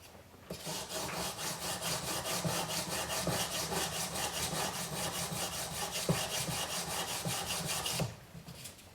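A sanding stick rubs a metal ring piece held in a miter jig, a steady scratchy back-and-forth rasp with rhythmic strokes, close and continuous for about seven and a half seconds before stopping.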